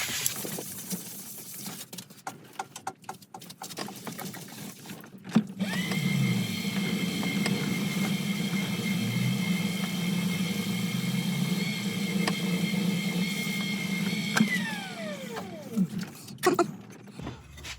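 A wood lathe turns a resin inlay bowl, a steady whirring drone that holds for about ten seconds and then winds down, preceded by scattered tapping and handling noises.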